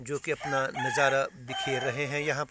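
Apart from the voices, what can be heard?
rooster crowing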